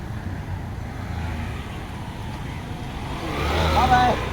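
A motorcycle under repair is ridden, its engine a low rumble that swells louder toward the end, with voices talking nearby.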